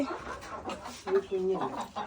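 Young chicks and hens on a small home poultry farm being fed in the morning, soft clucks and peeps close by, mixed with quiet talk.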